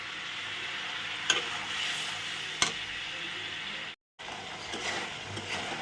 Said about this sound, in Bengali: এই যে মশলাটা কষানো হচ্ছে